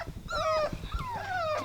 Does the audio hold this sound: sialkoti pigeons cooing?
no